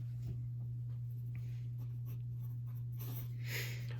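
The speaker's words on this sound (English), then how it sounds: "So let me write that down." Pen or pencil scratches on paper while a count is noted down during a board game session, soft quiet strokes in short bursts over a constant low electrical hum.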